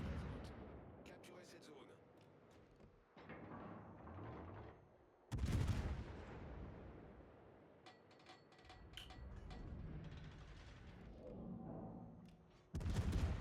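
Naval gunfire in World of Warships, heavy deep booms from ship guns breaking out in sudden bursts between stretches of rumbling battle noise, loud and close, with a voice talking in places.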